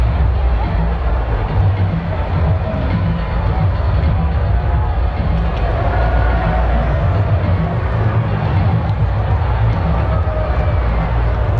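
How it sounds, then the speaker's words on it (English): A crowd in a rugby league video game (Cowboys vs Bulldogs) roars and applauds after a try, a dense, steady wall of cheering and clapping that runs loud and unbroken throughout. "The crowd love that one and are on their feet applauding that play."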